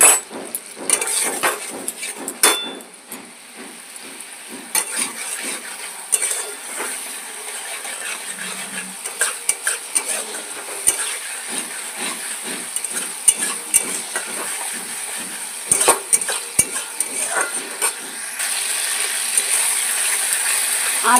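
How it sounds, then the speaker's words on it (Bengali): Ginger and tomato masala frying in a pan over low gas, stirred with repeated scraping and clinking strokes, close and steady against a faint sizzle. "আদা টমেটো দেখুন ভালো করে কষানো হয়ে গেছে।"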